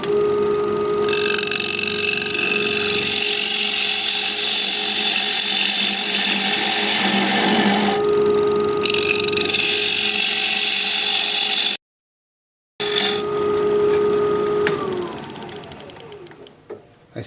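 A wood lathe spinning while an oak bowl is turned, a loud steady motor whine with tool cutting noise that shifts in intensity, a brief silent cut, then the machine winding down at the end.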